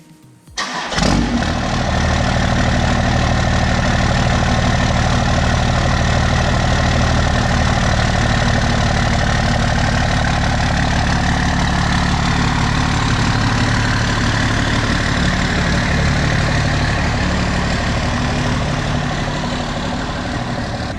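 A first-generation diesel truck engine fires up and settles into a loud, steady idle, a continuous deep rumble with a faint clatter that holds without a break.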